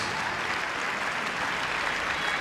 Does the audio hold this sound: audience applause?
yes